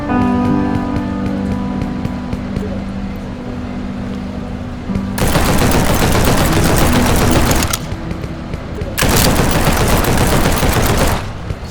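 Dense automatic assault rifle fire in the PC shooter G2 Fighter, starting after a quieter stretch with game ambience and tonal hum, then loud sustained bursts with a short pause between them.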